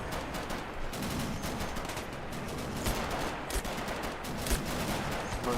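Dense, continuous gunfire crackles through a tank-battle strategy game match, with a half-track's weapon firing amid overlapping bursts and a few sharper impacts, all at a steady, loud level with no talk.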